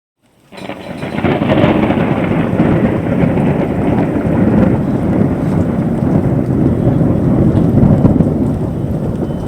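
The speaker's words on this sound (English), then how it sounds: "The heavy downpour beat it hard on the old zinc roof." Heavy, steady rain drums hard and continuously on an old zinc roof, a dense roar that starts abruptly and holds loud throughout.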